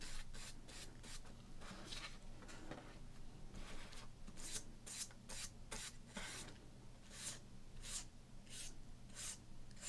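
Soft, close rubbing strokes on a baseball card come in a steady, quiet rhythm of brisk swipes, some brighter and raspier than others, with no voices.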